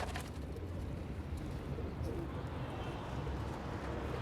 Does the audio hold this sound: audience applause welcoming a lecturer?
no